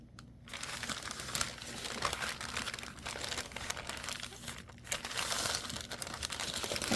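Paper crinkles and is folded down for a junk journal, soft close rustling and crumpling that comes in uneven bursts, quiet and alone without talk.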